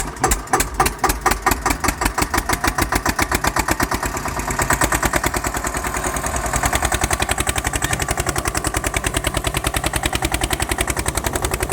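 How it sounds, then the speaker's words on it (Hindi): An Eicher 242 tractor's engine cranks and fires with slow, hard chugging beats, then settles into a fast, steady, loud knocking idle close by. "पहले तो आगे आवाज तो सुना दे एक बार ट्रैक्टर की यार"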